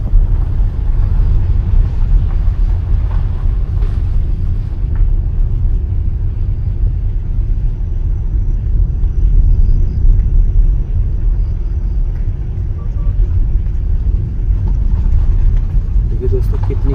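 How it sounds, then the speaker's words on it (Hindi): Car tyres roll over a forest road through Sitabani Forest near Jim Corbett National Park, a continuous low rumble heard from inside the moving vehicle, with someone talking over it. "सिर्फ गाड़ी के जो टायर हैं उनकी आवाज़ आ रही है"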